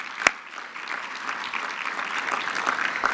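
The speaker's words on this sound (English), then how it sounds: "I want to give you all a round of applause for everything that you do" An audience applauds, a dense steady patter of many hands clapping that swells slightly, with one sharp clap standing out at the start.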